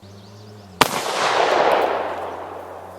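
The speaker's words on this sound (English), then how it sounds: "Thoughts of your first shooting? With a shotgun, that is." A single sharp, loud shotgun blast cracks out outdoors, followed by a long decaying rumble and echo fading over a couple of seconds.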